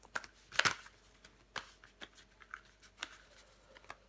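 Tarot cards being shuffled and handled close by: a series of quick, crisp riffles and soft slaps at irregular intervals, with quiet pauses between, and no talking.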